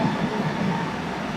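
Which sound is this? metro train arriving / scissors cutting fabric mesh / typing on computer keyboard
metro train arriving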